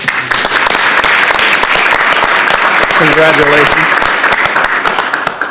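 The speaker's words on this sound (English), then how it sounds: "let's give her a round of applause" Audience applauding at a county commissioners meeting, a loud, sustained wash of clapping that fills the room, with a voice briefly speaking over it.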